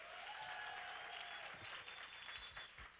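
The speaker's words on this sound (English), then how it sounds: "A round of applause again for Faye." An audience breaks into applause for Faye at a Soca conversation-series event, a dense, steady clapping that holds for about three seconds with faint tonal hints underneath, easing slightly toward the end.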